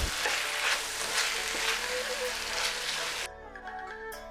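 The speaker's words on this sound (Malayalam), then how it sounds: "നമുക്കിതിൻ്റെ എല്ലാം പച്ചമണം മാറുന്നത് വരെ വഴറ്റാം" Chicken spring roll filling sautés in a pan with soy sauce, giving a loud, dense sizzle with stirring scrapes that cuts off abruptly, leaving a fainter hiss.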